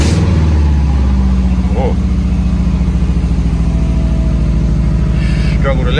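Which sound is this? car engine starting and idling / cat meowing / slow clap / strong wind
car engine starting and idling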